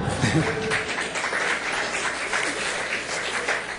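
Applause sound effect from a jingle at a photography festival interview: a dense, steady wash of clapping lasting a few seconds, with a voice talking over it.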